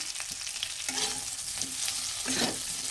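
Potatoes frying in a pan, covered between checks, crackle steadily while a utensil stirs them in a few brief scraping strokes; no voices.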